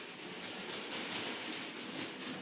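A model train pulls a coach and a Shark brake van along the track with a soft, continuous rolling rumble and faint clatter, quiet and steady.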